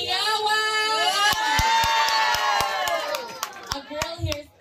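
A crowd at a Miss Gay pageant swimsuit round erupts in loud cheering, whoops and shrieks, with sharp claps punching through and the shouting easing toward the end.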